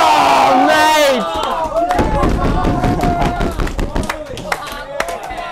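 Spectators cheer and shout at a BMX game of bike: a loud voice first, then a burst of rowdy crowd noise with scattered claps and yells, close and lively.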